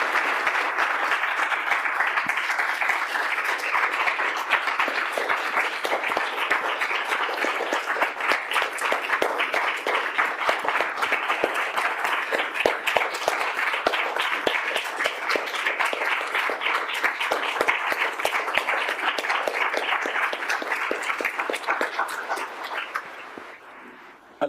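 Sustained audience applause following a talk on death penalty abolition, a dense steady patter of many hands clapping for over twenty seconds before tapering off at the end.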